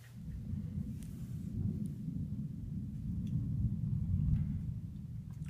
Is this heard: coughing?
no